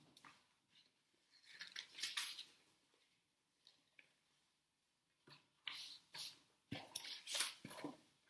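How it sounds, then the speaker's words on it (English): Scissors snipping through coloured paper to cut out windows for a children's garden diorama craft, in short quiet bursts of crisp snips separated by pauses, close by. "I'm just going to cut some windows out of my coloured paper."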